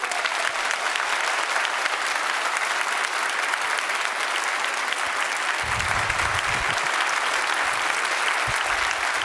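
An awards-ceremony crowd bursts into sustained applause and cheering after a countdown, a dense wash of clapping that holds steady throughout, with a few low thumps partway through.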